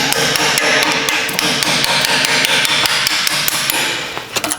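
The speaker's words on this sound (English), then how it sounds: "And we're gonna need a hammer for the bottom one." Rapid, steady hammer blows knocking out a front brake caliper pin on a 100 Series Land Cruiser, a fast run of sharp close metal strikes with no talking, slowing to a couple of final knocks.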